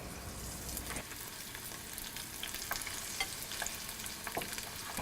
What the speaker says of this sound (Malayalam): ഷ്രിമ്പ് മുങ്ങിക്കിടക്കത്തക്ക വിധത്തിൽ എണ്ണ ഒഴിച്ച് ചൂടായ ശേഷം ഇതിലോട്ട് മാവിൽ മുക്കിയ ചെമ്മീൻ ഇതുപോലെ ഓരോന്നായി ഇട്ട് ഡീപ്പ് ഫ്രൈ ചെയ്തെടുക്കുക